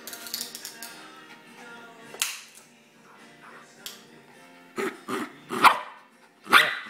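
A dog barks in short loud bursts with a low growl running between them, close by, while a person talks over part of it.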